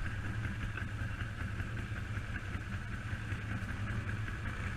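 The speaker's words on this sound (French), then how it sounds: "C'est un moteur aussi." A quad bike engine idles quietly at a distance during an off-road trail day, a soft, even mechanical hum with no change in pace.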